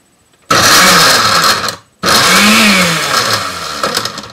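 A cheap, low-quality blender whirs loudly as it purées vegetables for gazpacho, running in two close bursts with a brief pause between them and a pitch that dips and wobbles under the load.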